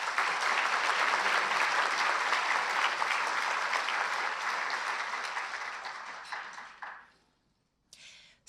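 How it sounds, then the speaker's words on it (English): An audience applauds at a Hometown Heroes ceremony, a loud, dense burst of many hands that holds steady, then thins and fades to near silence, with a brief faint sound near the end. "So please, another round of applause."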